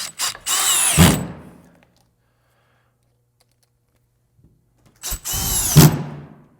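A power drill fitted with a dimpler bit drives drywall screws, giving two separate whirring bursts about a second long each with silence between them, close and loud.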